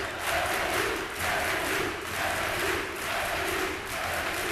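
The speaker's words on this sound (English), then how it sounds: "The crowd are going back and forth." A crowd at a men's college volleyball semifinal between Missouri Baptist and St. Ambrose cheers and roars continuously, loud and close, swelling and easing in waves.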